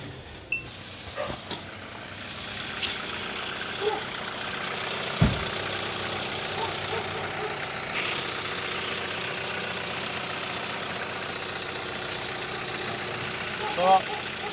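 Hyundai Accent CRDi diesel engine idling after a fuel filter replacement, a steady low mechanical hum with a few clicks and knocks, heard at moderate distance while someone talks intermittently.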